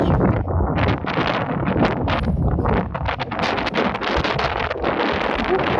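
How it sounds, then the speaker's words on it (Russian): Strong wind on the shore of the Yeysk estuary buffets the microphone in loud, rumbling gusts, continuous and close, with no talking. "Ветер сильный."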